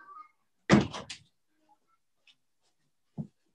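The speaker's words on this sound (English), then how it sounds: "Let me close that door so my kids aren't making an appearance." Indoor door being closed, a sharp burst of thuds and a latch-like clack, followed by a short faint knock, in an otherwise quiet room.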